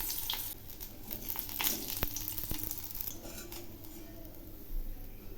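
Fish sizzles and spatters in hot oil in a pan, a steady close crackle with occasional sharp pops and a few light clinks of a utensil, no talking.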